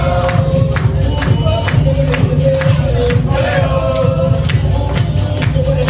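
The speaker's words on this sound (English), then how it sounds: "I mean, the crowd are very much celebrating here." A wrestling event crowd cheering and celebrating in an arena: a loud, continuous roar of many voices with whoops and shouts, steady and close, washing over the whole stretch.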